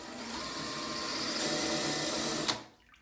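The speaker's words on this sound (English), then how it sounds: "And then he's gonna start that without hammer drill." A drill in plain rotary mode, with no hammer action, bores into ceramic shower wall tile. It gives a steady, close whirring drone for about two and a half seconds, then stops abruptly and winds down.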